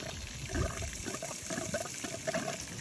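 Water gurgles and splutters as it is drawn out of a welding gas hose, giving irregular close wet slurps and trickles at low volume with no talk.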